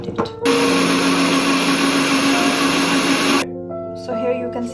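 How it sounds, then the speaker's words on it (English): Kitchen blender whirring as it blends green chilies, a clove of garlic and half a cup of water for green chutney, a loud steady motor roar for about three seconds that cuts off abruptly, followed by a short mechanical rattle and a voice. "I will add it in the blender, and then I will add half cup of water as well, and I will blend it."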